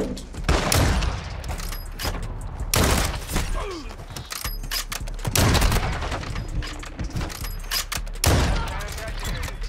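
Sniper rifle gunfire in a multiplayer shooter game, sharp loud shots at irregular intervals, about five bursts, with voices chatting in between.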